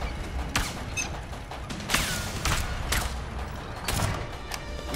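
Enemy gunfire from a shooter in the A Way Out video game, heard as a string of sharp cracking shots spaced irregularly across the scene over a noisy, rumbling background, moderately loud with no talking.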